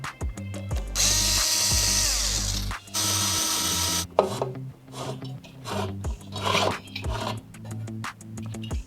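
A hashboard pulled out of an iBeLink BM-K3 crypto miner, heard as loud grinding metal scraping in two long bursts, then intermittent rattles, knocks and sliding clatter.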